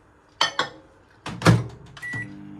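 Microwave oven being used: two quick clicks or beeps, a louder clunk of the door, then the low steady hum of the oven starting up, close by with no talking.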